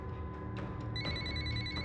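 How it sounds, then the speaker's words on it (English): A telephone ringing, a short electronic trill with bright repeating tones starting partway through, over a low background murmur. "Angelique's phone began to ring."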